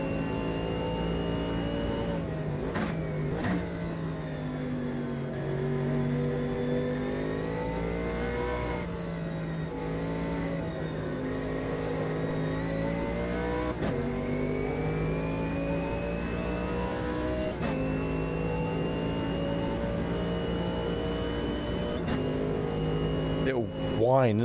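A GT race car in the Automobilista 2 video game revs and shifts with a steady harmonic engine drone and a thin, high whine riding above it, rising and falling through gear changes, heard up close as the player talks over it.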